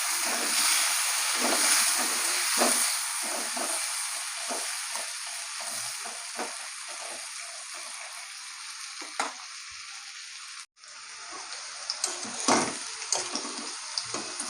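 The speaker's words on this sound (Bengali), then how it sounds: "এখন আমি আলুগুলো ভেজে নিচ্ছি।" Potatoes fry in oil in a wok with a continuous close sizzle, broken by light stirring scrapes and a brief dip near the end before the crackle resumes.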